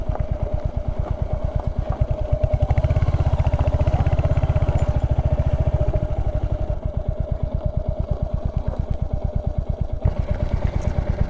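Royal Enfield Hunter 350 single-cylinder engine thumping steadily and close while riding over a broken road patch, a dense rapid pulse with a heavier low rumble swelling mid-ride as the bike labours over rough ground, no voices.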